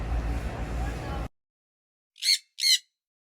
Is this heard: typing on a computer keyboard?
no